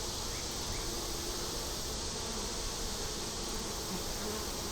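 Dense, steady buzzing of many honeybees around a hive, continuous and fairly close, with no voices.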